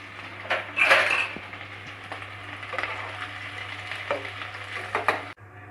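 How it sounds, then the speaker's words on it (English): Potato pieces fry in a pan with a soft, faint sizzle, punctuated by clinks and scrapes of a utensil against the pan. "So like this we have to fry it first."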